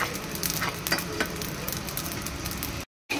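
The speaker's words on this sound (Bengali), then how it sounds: "এখানে ফ্রাইড রাইসের মশলা ভাজছি" Fried rice spices fry in a pan with a continuous close, dense sizzle and crackle, broken by a brief dropout near the end.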